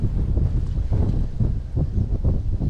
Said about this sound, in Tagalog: Mahangin pa rin.